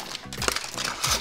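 Plastic bags from a Mega Bloks Star Trek Enterprise set's packaging crinkle and rustle up close, in loud continuous handling noise with a few sharper crackles.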